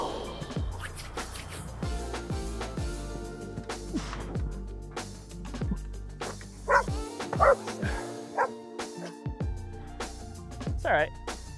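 A dog barks several times at a distance during a bar gymnastics training session, the sharp barks scattered among clanks and background voices.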